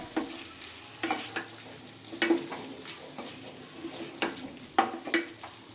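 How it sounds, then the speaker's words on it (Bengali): Dry fish masala with freshly chopped coriander leaves being stirred in a hot pan: irregular scraping strokes over a soft, steady sizzle, close and clear, with no talking. "কুচিয়ে রাখা ধনে পাতা ধনে পাতা দেওয়া হয়ে গেছে এবার খুব ভালো করে আরও একবার আমি নেড়ে চেড়ে নেব"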